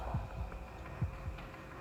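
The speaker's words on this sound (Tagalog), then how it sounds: "malakas yung heartbeat ng bata natin" Heartbeat in the video game Death Park 2, a child's heart pounding in low, muffled double thumps that repeat steadily over a soft hum, with no talking.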